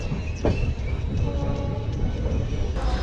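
The 12056 Dehradun Janshatabdi train pulls into Tapri Junction in fog. A continuous close rumble of wheels and carriages plays steadily with no talk.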